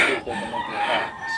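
A rooster crows once, close and loud, a drawn-out strident call that fills the whole moment with no other sound.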